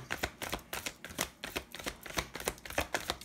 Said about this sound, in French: pour le claquement des cartes sur le bureau